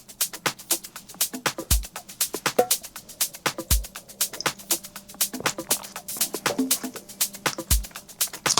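Full drum track of a Beatport-charting dance production: dense, driving hats and percussion in a tight groove, deep kick-like thumps landing every couple of seconds, loud and continuous with no voices.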